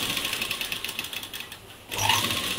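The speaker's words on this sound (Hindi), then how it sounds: "हम अभी सीधा सीधा लाइन ऐसे चलाएंगे" A sewing machine stitches a straight line, giving a steady close mechanical whirr with a rapid rhythmic needle patter that pauses briefly and then starts again.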